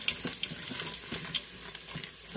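Mixed vegetables sauté in a pan for fried rice, with a soft, quiet sizzle and light clicks and scrapes of stirring throughout, no talking.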